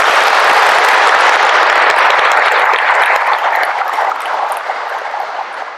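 A large audience at a Catholic spiritual lecture at a shrine gives loud, dense applause that gradually fades out near the end.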